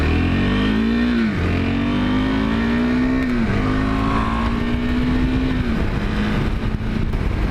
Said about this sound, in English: Got some pretty good acceleration.